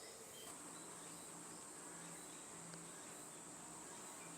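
Honeybees swarming over extracted honey frames outdoors, giving a faint continuous buzzing hum with a steady high-pitched insect drone; no talk.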